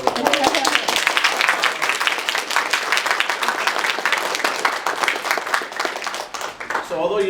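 An audience applauds a student game-development team at a vertical slice presentation: sustained, fairly loud group clapping with dense rapid claps, fading slightly near the end as a voice resumes.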